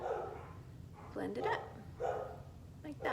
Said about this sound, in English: I am so sorry about the barking.